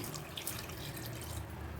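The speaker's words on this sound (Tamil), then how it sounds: "இது தேவையான அளவுக்கு தண்ணி சேர்த்துருவோம்" Steady running water pours continuously into a pot at moderate volume, a faucet-like splashing stream with no talking.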